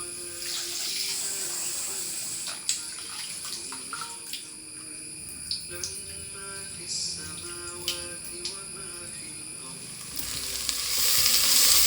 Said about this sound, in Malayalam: ഹൈ ഫ്ലെയിമിൽ തന്നെ ഇട്ടിട്ട് ഒന്ന് സോട്ട് ചെയ്തെടുത്തിട്ടുണ്ട്